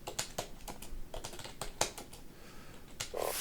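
Rapid, irregular keystrokes on a computer keyboard as code is typed, a quick run of crisp clicks with short pauses, close and fairly quiet, with no talking.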